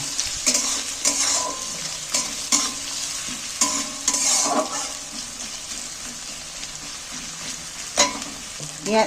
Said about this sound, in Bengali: কাঁচা লঙ্কা কুচোনা পেঁয়াজ কুচোনা তুলে দিচ্ছি এটাকে আমি একটু ভালো করে নাড়াচাড়া করে ভেজে নেব